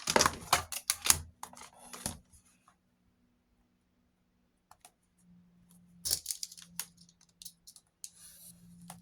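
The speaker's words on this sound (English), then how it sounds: "I might just cut the top." A craft blade cuts through paper in bursts of sharp scratchy strokes, with a quiet pause in the middle before more rapid slicing, close up and with no talking.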